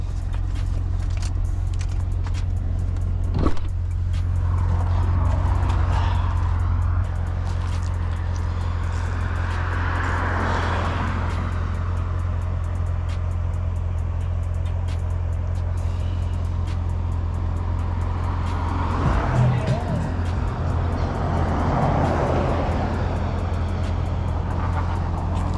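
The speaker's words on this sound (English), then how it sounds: "There's a lot of cars." Cars pass along a canyon road one after another, a steady loud roadway rumble with swells as vehicles go by close.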